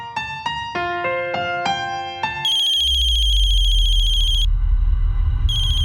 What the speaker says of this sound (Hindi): मम्मी जी का फोन है।